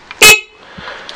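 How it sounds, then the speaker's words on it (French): A used scooter's horn gives one short, loud honk, followed by quiet background. "le klaxon."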